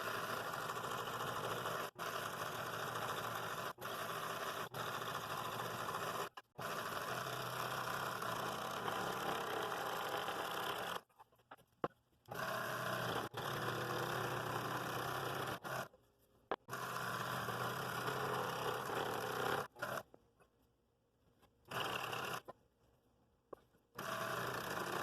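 A scroll saw cutting through a maple board, a steady buzzing motor-driven chatter close by that runs in bursts with several abrupt stops and silent gaps, restarting after each pause.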